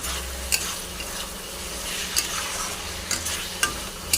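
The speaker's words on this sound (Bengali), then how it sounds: "এটাকেও কষিয়ে নেব ভালো করে" Mushrooms with soy sauce and green chillies stir-fry in a pan with a continuous close sizzle, punctuated by several sharp scrapes and knocks of the spatula.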